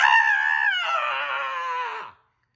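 A voice actor imitates King Neptune's scream in an audiobook reading: a single loud, sustained, wavering shriek lasting about two seconds that drops in pitch and cuts off abruptly, followed by silence.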